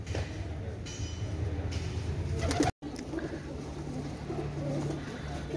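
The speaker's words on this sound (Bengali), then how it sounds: "অনেক সুন্দর কবুতর, পাকিস্তানি ফকির গুল বেবি" Pakistani high-flying pigeons coo softly and repeatedly in the background over a steady low hum, with a brief dropout midway.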